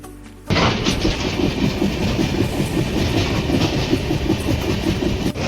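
An Indian long-distance passenger train on the Kolkata to Mumbai route runs on its rails, heard from inside as a loud, continuous rumble with steady clickety-clack that starts abruptly after a brief quiet moment.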